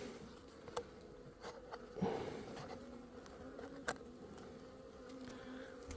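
Honeybees buzz steadily around a wedding nuc hive during an inspection, a continuous close drone with a few individual bees passing loudly by.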